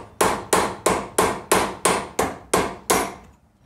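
Hammer blows drive a cold chisel into metal, nine sharp ringing strikes at a steady pace of roughly three per second, each one loud and close with a short metallic decay and no talk.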